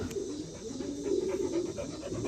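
A dog pants heavily and steadily nearby in a pigeon loft, its rapid breaths running throughout with faint bird sounds behind.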